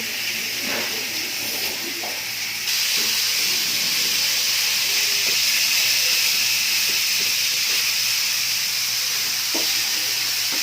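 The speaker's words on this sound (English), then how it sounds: "This is probably a good half kilo of pork, which is a bit reluctant to dump into the pan." About half a kilo of pork frying in a pan, a steady loud sizzle and hiss that swells slightly after a few seconds and carries on unbroken, with faint clinks over it.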